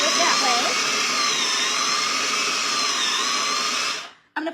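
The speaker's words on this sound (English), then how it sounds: "You can power it on and it starts to grind." An electric food chopper runs steadily in power mode while grinding, giving a loud, continuous whirring drone that cuts off abruptly near the end.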